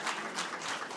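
A short burst of audience clapping at a healthcare conference, brisk and continuous for about a second.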